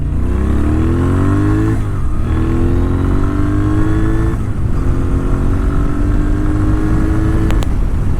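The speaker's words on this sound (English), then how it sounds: "It just has that real kind of awesome, deep, raspy sound that a classic bike should have." A 2010 Moto Guzzi V7 Cafe motorcycle with aftermarket pipes revs loudly and close by. Its deep, raspy engine note climbs in several long pulls, and each pull drops off sharply before the next.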